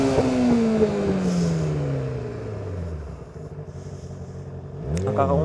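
A Yamaha R6 sport motorcycle revs and shifts through its gears without the clutch, its engine note rising and dropping between shifts, close and loud, with a sharp fresh rev near the end.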